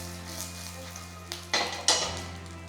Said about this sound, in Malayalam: ചെറിയ ഫ്ലെയിമിൽ കിടന്ന് ഡ്രൈ റോസ്റ്റഡ് ആവണം.